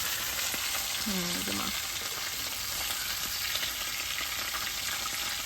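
Tilapia fish fries in hot oil with a steady, dense sizzle that carries on throughout at an even level, with only a brief faint tone near the start.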